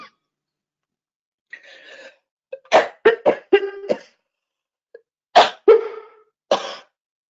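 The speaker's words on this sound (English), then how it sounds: "I had to cough." A person coughs several times close by, in two short sharp bursts separated by quiet pauses, with a softer throat-clearing sound before them.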